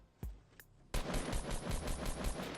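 Automatic gunfire in the video game Fortnite Battle Royale: two single shots, then a rapid sustained burst of evenly spaced shots, loud and close with no talk.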